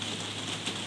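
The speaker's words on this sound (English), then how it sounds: "Sorry, it's raining again." Steady rain falling outside, a dense continuous patter of drops with an even hiss and no distinct breaks, fairly loud and close throughout with no talk over it.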